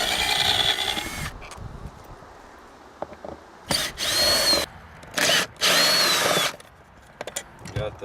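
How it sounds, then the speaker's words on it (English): A power drill backs screws out of a seat base in several short, loud bursts of whirring, separated by pauses filled with quiet handling noises. "What I'm going to do is I'm just going to pull these screws out."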